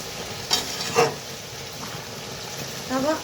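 Jaggery simmering in a pan for chalta (elephant apple) pickle gives a steady soft sizzle and bubbling, with a few brief stirring scrapes and a faint voice near the end.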